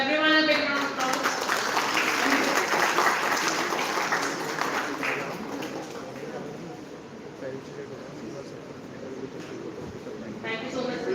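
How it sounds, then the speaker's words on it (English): Applause from the audience at a campus career expo and placement fair, a broad wash of clapping that swells early and then thins out, with voices heard over it near the end. "Everyone a big round of applause."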